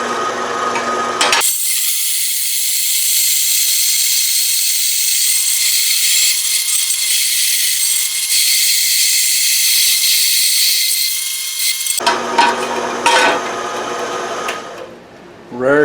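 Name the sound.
power tool rattling while cutting a mini pallet clamp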